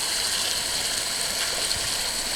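A small mountain trout creek runs past willows and banks, giving a steady, close rush of flowing water with even hiss and no breaks.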